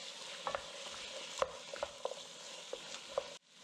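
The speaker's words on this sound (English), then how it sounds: "We're going to give this a quick stir." Cumin seed, sage and bay leaf stirred in a pot for cheesy corn chowder, a spoon scraping and tapping the pot in irregular strokes over a soft sizzle, close and fairly quiet, ending abruptly, no voices.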